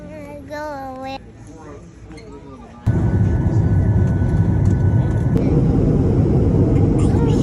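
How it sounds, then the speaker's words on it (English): Airliner arriving at Las Vegas airport, a loud, steady broadband roar of engines and cabin noise that rises abruptly and holds, with a voice and other talk heard faintly before it. "Landed at the beautiful airport of Las Vegas,"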